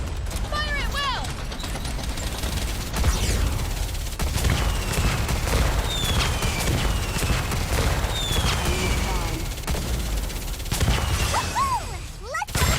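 Dense gunfire and shattering impacts from a squad battle in the mobile shooter Nikke, during a hard-mode union raid boss fight, a steady roar of shots and crashes running throughout with voices murmuring underneath.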